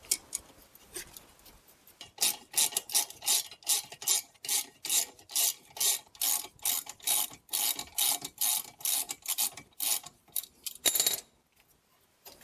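Rhythmic ratcheting wrench strokes loosening 13 mm brake caliper bolts on a 2008-2016 Smart Fortwo Passion front brake, a steady run of about twenty close, crisp clicks that stop abruptly near the end.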